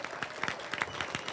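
Applause at a high school ribbon-cutting ceremony, a brief patch of distinct claps from a small, somewhat distant crowd, fairly quiet and uneven.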